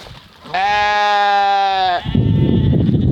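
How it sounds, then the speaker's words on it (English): A sheep lets out one loud, close bleat of about a second and a half, followed by rustling and shuffling. "let me show you about these sheep"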